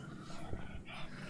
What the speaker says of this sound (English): That's my dog breathing.